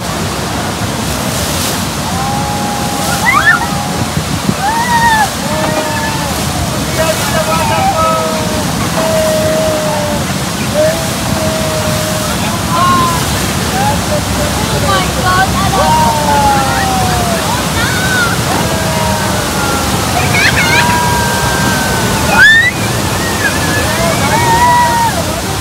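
The Rhine Falls roars beside a tour boat, a loud, unbroken rush of falling and churning water, with people's voices and excited cries rising faintly over the constant wash.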